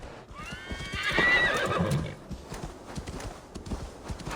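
A horse in the game Assassin's Creed Valhalla whinnies loudly and close, then its hooves clip-clop in a steady rhythm as the neigh fades.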